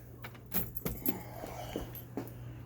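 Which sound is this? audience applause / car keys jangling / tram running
car keys jangling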